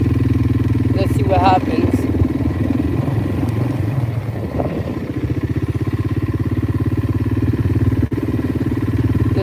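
An ATV rides through the forest while its engine chugs steadily at close range with a low, even throb, and a person speaks briefly over it.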